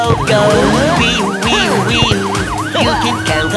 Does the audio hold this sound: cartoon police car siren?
yes